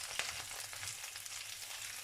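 Red and green chilies, onion and two curry leaves crackle and sizzle steadily in hot oil for a tadka, a dense close hiss with scattered sharper pops.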